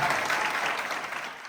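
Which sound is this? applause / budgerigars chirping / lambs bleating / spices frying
applause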